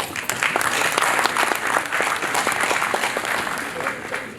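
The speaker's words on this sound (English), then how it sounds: "Can we clap for the women, please?" Audience applause at an African youth day conference, clapping for the women: dense, steady clapping from a large crowd fills the whole stretch at even loudness, with many overlapping hand claps and no pause.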